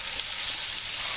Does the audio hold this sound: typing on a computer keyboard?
no